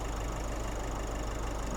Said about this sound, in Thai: นี่คือสตาร์ทเครื่องยนต์ไว้ให้ดูอยู่นะ